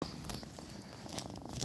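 A cat purrs up close, a steady continuous rumble that carries alone through the whole short stretch with no talking.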